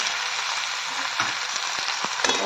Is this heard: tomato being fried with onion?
yes